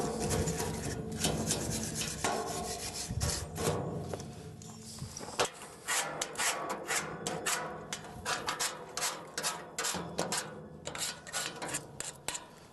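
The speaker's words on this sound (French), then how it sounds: "Éventuellement, un petit coup de brosse derrière." Brush scrubbing the back of a metal surface before applying rust-proof finishing paint, a close series of dry, rapid scratchy strokes that grow more rhythmic and clipped toward the end, with no talking.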